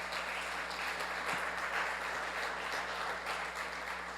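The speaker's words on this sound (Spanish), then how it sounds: "Denle un aplauso al Señor." A church congregation applauds together, a steady, dense wash of clapping that holds at an even level throughout with no talk over it.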